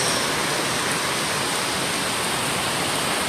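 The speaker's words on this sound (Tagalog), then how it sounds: "Talagang buhos-buhos ang ulan." Heavy tropical downpour pours down in a dense, unbroken roar of rain, loud and close, with no talk over it.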